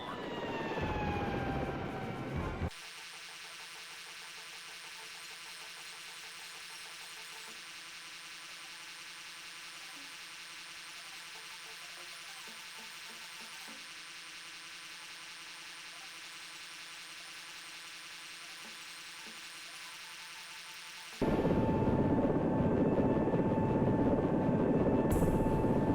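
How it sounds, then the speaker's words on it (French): Aircraft touching down softly at an improvised base in a flight video game: a steady engine and rotor hum with a whining tone holds for about twenty seconds, between louder rushing engine noise at the start and end. "un atterrissage tout en douceur sur une base improvisée"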